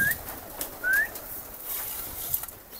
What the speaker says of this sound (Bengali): কবুতর একটু দেখি